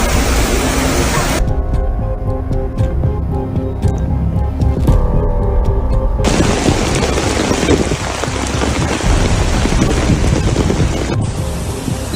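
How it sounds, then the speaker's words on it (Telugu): Heavy rain pours down in a loud, constant hiss during flooding in Hubei, China, close and dense, with brief muffled stretches where the downpour sounds dampened. "చైనాలో భారీ వర్షాలు పడుతున్నాయి"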